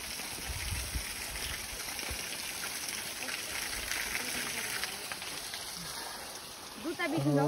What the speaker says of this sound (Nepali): यहाँ पनि एउटा खोला